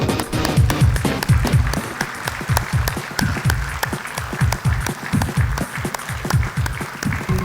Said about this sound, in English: Can we keep the claps going?